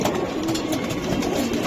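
Racing pigeons in a loft coo steadily and close by, a soft continuous murmur of overlapping calls from several birds with no pauses and no talking.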